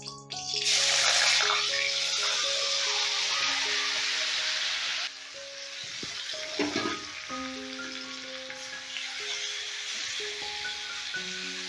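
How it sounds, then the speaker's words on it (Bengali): Paneer and soya chunks hit hot white oil in a pan and sizzle loudly. A dense, steady frying hiss runs throughout, with occasional stirring scrapes and a low voice faintly underneath. "এবারে এই পনির আর সয়াবিনটা আমি ভালো করে ভেজে নেব।"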